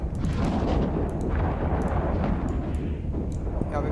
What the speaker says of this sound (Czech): Střílím ten depot.